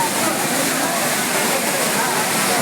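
Waterfall at Courtallam (Kuttralam) pouring steadily onto a crowd of bathers, a dense, unbroken roar of falling water filling the scene from near at hand.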